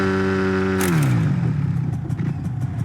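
Motorbike engine in Fortnite, a steady harmonic idle hum that drops in pitch and breaks into a rough, rattling chug, close and loud.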